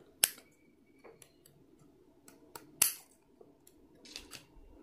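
Scissors cut through a sheet of 4 mm plastic canvas mesh, giving a few sharp, close snips against a quiet room, with two louder crisp cuts and softer clicks between them.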